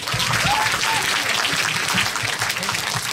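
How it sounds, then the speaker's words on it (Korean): Crowd applause fills a school festival hall after a singer's special performance, dense and steady throughout with a few voices faintly audible beneath it. "마지막으로 한 번 더 박수 부탁드립니다"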